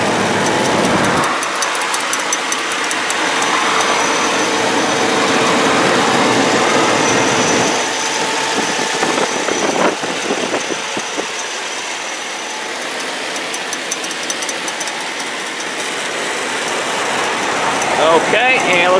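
A 1998 Chevy K1500 4x4 pickup truck engine idles steadily with a low rumble, mixed with broadband hiss and some mechanical clatter, continuous throughout with no voices.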